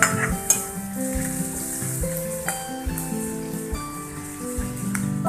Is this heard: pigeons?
no